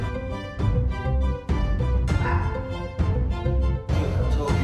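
A small dog barks continuously from a rooftop, insistent yaps and whimpering yips in long unbroken runs, loud and nearby with only brief pauses.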